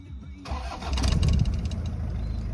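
A Toyota Prado cranks briefly and catches, then settles into a steady, close idle.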